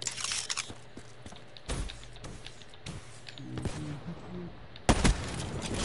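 Gunfire in a Black Ops 3 multiplayer match: several sharp single shots scattered through the scene, with a louder burst near the end over quieter game ambience.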